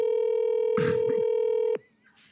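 A steady telephone ringback or ring tone sounds loudly and continuously for almost two seconds, then cuts off, while a voice briefly talks over it during a call.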